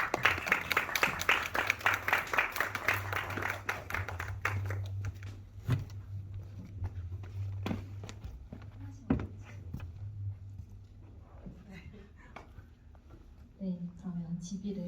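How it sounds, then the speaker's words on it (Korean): A film screening audience claps to welcome two short-film directors, with dense applause at first that thins into scattered claps, while a host speaks over it. "큰 박수 부탁드립니다."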